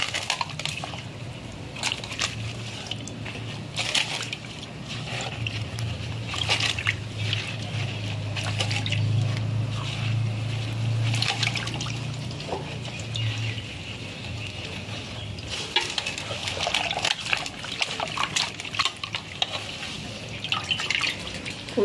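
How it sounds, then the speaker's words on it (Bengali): Pumpkin leaves are washed by hand in water, giving soft irregular sloshing, splashing and drips at close range, moderately quiet throughout. "কুমড়ো পাতাগুলো একটু ভালো করে ধুয়ে নিতে হবে।"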